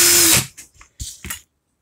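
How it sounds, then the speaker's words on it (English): A cordless power drill spins in reverse to loosen a Clapton coil wire on a 22-gauge build, giving one loud whirring burst that stops abruptly, followed by a couple of short handling clicks. "put my drill in reverse"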